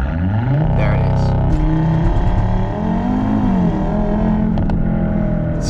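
A 2015 Audi RS3 with the 2.5 TFSI five-cylinder engine driving, its loud exhaust droning and rising and falling as the revs change, heard close from inside with no talk.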